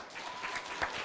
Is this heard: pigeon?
no